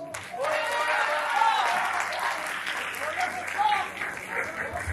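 An audience breaks into sustained applause, many hands clapping together with some cheering voices mixed in, loud and steady before gradually easing.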